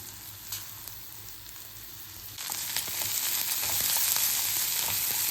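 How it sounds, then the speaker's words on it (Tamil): Garlic, ginger and roughly chopped onion frying in a pot, a quiet sizzle that suddenly swells into a louder, steady crackling hiss partway through, close by with no talking. "ரஃப்பாக கட் பண்ண ஒரு மீடியம் சைஸ் வெங்காயம் இதை நல்லா வதங்கட்டும்"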